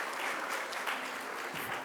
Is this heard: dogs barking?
no